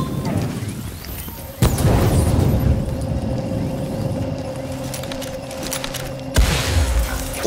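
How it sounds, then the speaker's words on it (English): Grenade blast in the shooter game The Division, a loud sudden boom followed by a second heavy burst a few seconds later, with gunfire and rumbling in between. "Oh shit, grenade."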